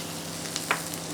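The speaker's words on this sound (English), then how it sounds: "We'll saute those." Shallots and garlic sautéing in extra virgin olive oil in a hot pan give a steady, even sizzle with a couple of faint clicks, close and fairly soft, with no voices.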